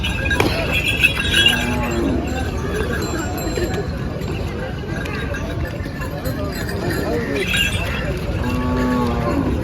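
Bulls at a livestock market in Dhule, including a pair of native bullocks used for pulling carts, give a few drawn-out moos amid constant crowd chatter and talking nearby.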